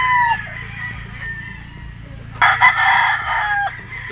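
Gamefowl roosters crowing and clucking at a game farm, a loud close crow about halfway through over a steady background of farm noise, with fainter calls before it.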